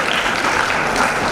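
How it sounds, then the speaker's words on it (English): Students at a seminar poster presentation clap together in a brief, loud, dense burst of applause heard close up. "Clap for yourself."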